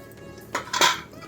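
Steel idli plates set onto a metal idli stand, giving two quick, bright clinks in close succession, close and clear with no talking.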